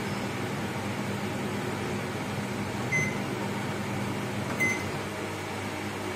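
An oven bakes pumpkin cupcakes at 180 degrees with a steady, even hum and fan whir, faint and unbroken, with two soft beep-like tones partway through and no talking.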